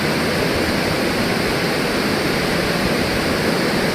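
A steady, broad rushing roar of falling water from Vyaghreshwar waterfall, about 300 metres high, in Devgad, continues evenly throughout, loud and unbroken, with no voices.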